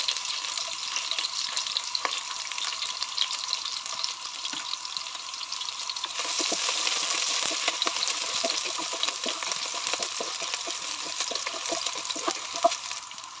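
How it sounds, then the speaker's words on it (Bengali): Chopped garlic and onion frying in a little oil in a pan, a steady hiss and crackle of sizzling throughout that grows denser and louder midway, with scattered small pops and spits. "সেই তেলে আমি রসুন কুচি দিচ্ছি, আর দিয়ে দিচ্ছি কিছু পেঁয়াজ কুচি, মোটা মোটা করে কেটে দিলাম।"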